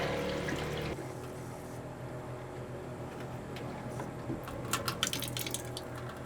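Water runs from a boat's faucet with the aerator removed during de-winterizing of the water tanks, a steady, moderately loud splashing flow into a sink, with a few sharper splashes near the end.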